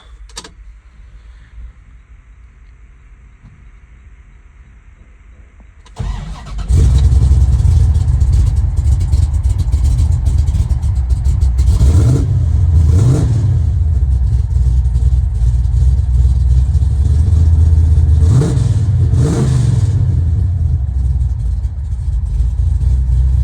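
A quiet interior gives way to a 1970 Plymouth Road Runner engine cranking and roaring to life, then a loud, rumbling idle with a couple of throttle blips, close by.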